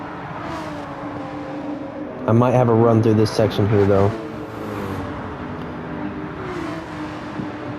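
A race car engine in Gran Turismo 7 on the Dragon Trail track hums steadily with shifting pitch as it accelerates and eases off, someone talking over it midway.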